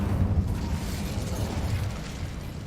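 The Incendio fire spell cast in Hogwarts Legacy, a dense, loud whooshing burst of flame that roars and crackles steadily for a few seconds before easing slightly.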